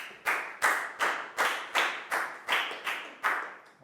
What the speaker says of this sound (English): High five and a big round of applause for Lakao, guys.